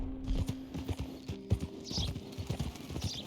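Horse hooves clip-clop in Red Dead Redemption 2, a steady walking rhythm of hoof beats on hard ground, with a faint snort or whinny in the background.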